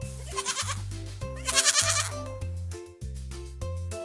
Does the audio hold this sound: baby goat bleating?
yes